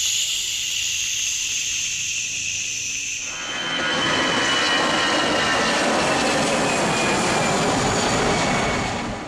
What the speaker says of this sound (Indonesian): Pesawat terbang meluncur.